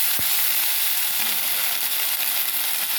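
Onions browning in a pan with ginger garlic paste for a mutton drumstick curry produce a loud, dense, unbroken sizzle heard up close.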